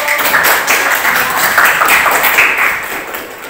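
A classroom audience of students claps together in a steady, dense patter of hand applause that fills the room evenly, then begins to taper near the end.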